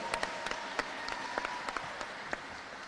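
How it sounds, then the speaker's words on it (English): Scattered applause from a press conference audience welcoming a women's basketball coach at Alabama A&M, a moderate patter of claps with a few sharper individual hits, somewhat distant in a room. "give her a round of applause"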